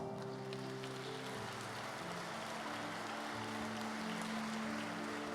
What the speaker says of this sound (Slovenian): mi pa jim lahko močno zaploskamo